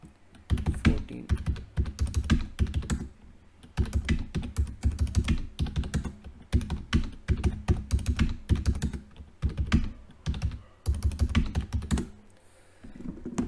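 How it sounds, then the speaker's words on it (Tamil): Keys clatter on a computer keyboard as data is entered for a PowerPoint chart, steady bursts of close, crisp typing with brief pauses between runs and no voice. "இந்த டேட்டாவில் போய்ட்டு டைப் பண்ணிடுறேன்"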